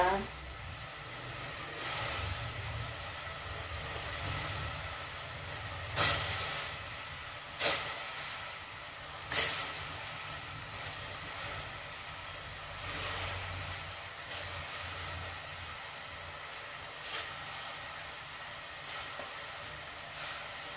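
Water coming to a boil in a pot for a simple fish-head soup gives a steady hissing, bubbling rush throughout, with occasional soft clinks and knocks, and faint talk underneath.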